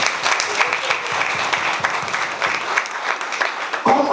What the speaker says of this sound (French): Je vous prie d'applaudir pour eux.